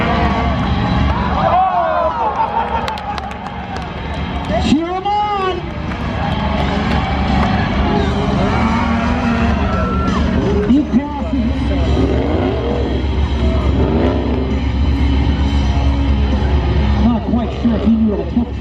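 Spectators at a tough truck competition cheer and yell loudly amid roaring, revving truck engines, a dense, continuous outdoor din with excited shouting voices near and far.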